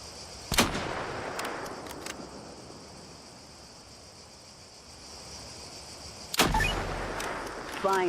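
Gunfire in a hunting video game: a sharp shot near the start and another burst around six seconds with ringing tails, separated by a quiet stretch of low ambient noise.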